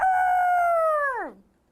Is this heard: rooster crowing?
yes